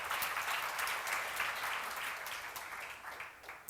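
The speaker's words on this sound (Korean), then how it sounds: "믿는 사람만 박수랑 하세요." A church seminar congregation gives a soft round of applause during a sermon. The clapping is faint and distant, a steady patter that fades gently at the end.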